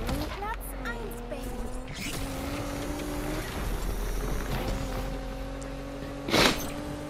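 A Nissan GTR engine in the racing game Need for Speed Unbound drones steadily with rising and falling tonal revs throughout, while someone talks over it and a brief burst of noise cuts in near the end.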